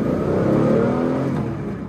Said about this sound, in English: So the revs, as you can hear, come in really quickly.